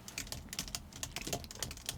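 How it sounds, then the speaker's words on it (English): Soft, rapid keystrokes on a computer keyboard in an uneven typing rhythm, close and quiet in a calm soft-spoken hospital roleplay setting. "I'll just type that up."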